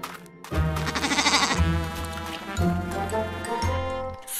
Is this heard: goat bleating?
yes